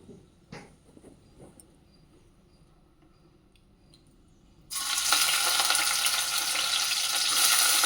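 Mixed vegetables dropped into hot olive oil and ghee, with a few light clinks at first, then a loud, dense, steady frying sizzle that starts abruptly and continues close by.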